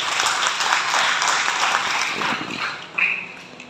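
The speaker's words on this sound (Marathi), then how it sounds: "एकदा टाळ्या वाजवा." Audience at an education and career guidance event clapping together, a dense burst of applause that thins toward the end, with a short sharp sound near the close.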